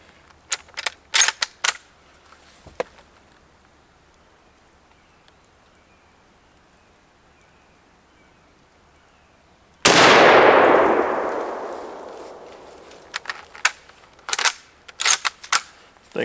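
One loud, sharp rifle shot at an outdoor shooting range rings out and decays over a couple of seconds. Quiet ambience and scattered clicks and handling noises come before and after it.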